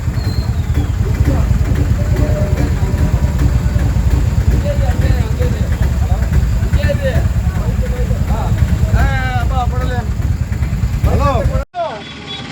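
Many motorcycles rumble and idle together at a farmers' bike rally, a dense, continuous engine drone throughout, with voices calling over it.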